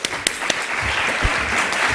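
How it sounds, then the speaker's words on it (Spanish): An audience at a business administration talk applauds, a steady wash of clapping with a few sharp individual claps, moderately loud and continuous for two seconds. "Daniela, un aplauso, por favor."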